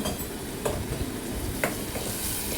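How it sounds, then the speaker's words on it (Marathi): Soft, steady sizzling of a thick ground masala paste frying briefly in oil for a fish curry, broken by a couple of brief scraping stirs. "हे वाटण आपल्याला थोडा वेळ तेलामध्ये परतायचे आहे, जास्त वेळ परतायची गरज नाही."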